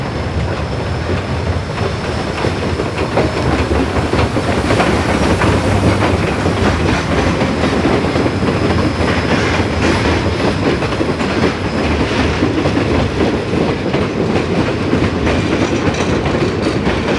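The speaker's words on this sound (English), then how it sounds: "Then the train neared the first big feature of the line, this viaduct, which crosses Camp Creek." A train rumbles steadily past at close range on a viaduct over a creek, wheels clattering rhythmically over the rails for a long continuous stretch, with faint metallic squeals.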